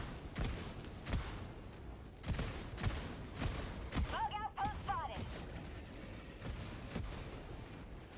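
Autocannon exosuit firing in Helldivers 2: heavy spaced booming shots mixed with other battle noise, fairly faint, with a voice talking over it.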